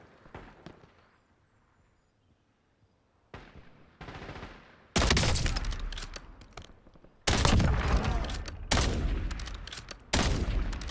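Gunfire in the video game Warzone: a quiet lull gives way to loud, repeated bursts of automatic fire, with sharp clusters of shots punctuating the second half at close range.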